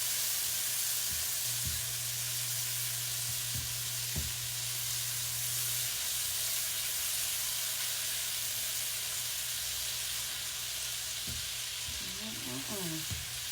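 Half a stick of butter sizzles and fries steadily in a pan for the whole stretch, a constant bright hiss with occasional stirring clicks and a low steady hum beneath.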